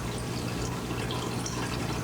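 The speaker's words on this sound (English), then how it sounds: "Add water up to the bottom of the 3 fill lines inside the tank" Water pouring into the tank of a BISSELL Big Green Clean Machine carpet cleaner, a steady close splashing and trickling stream that runs without a break.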